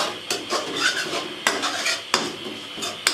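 A spoon stirs khoya with almonds and sugar in a pan, steady scraping with sharp metallic clanks against the pan every second or so, close and fairly loud, no voices.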